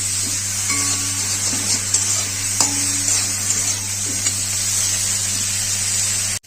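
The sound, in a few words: frying lentil dumplings and eggplant in a pan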